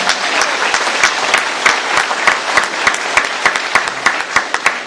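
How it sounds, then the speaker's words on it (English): A crowd at a town hall with the Texas Attorney General and sheriffs bursts into sustained applause, dense clapping filling the room steadily from start to finish with sharp individual claps standing out on top. "So let's give him a round of applause"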